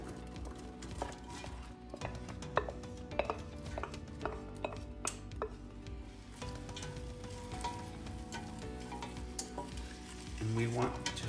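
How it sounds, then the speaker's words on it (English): Chopped onions and other vegetables sauté in heated olive oil in a soup pot. A soft, continuous sizzle is broken by frequent spoon scrapes and clinks against the pot, and a louder rattle comes near the end. "And we want to saute these for about 5 minutes until the onions start to brown and soften."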